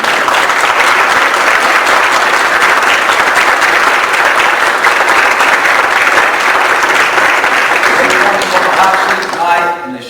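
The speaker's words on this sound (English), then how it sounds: "would you join me in giving a huge round of applause to these 3 men?" Loud, sustained applause from an audience at a 2014 Berkeley Republican supervisor candidate forum, a dense steady roar of clapping honoring three candidates that fades near the end.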